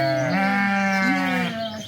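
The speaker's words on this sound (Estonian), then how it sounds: "Lamba kõik." Sheep at a zoo giving one drawn-out, wavering bleat, loud and close, lasting nearly two seconds with a nasal, buzzy tone and a pitch wobble in the middle.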